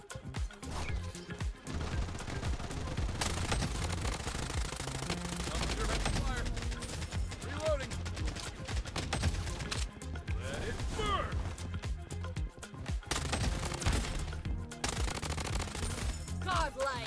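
MP5 gunfire in the Bloodstrike video game, rapid automatic bursts and shots repeating throughout, loud against game noise, with someone talking over the shooting.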